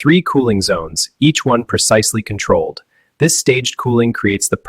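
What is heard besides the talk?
None of the usual background noises is heard.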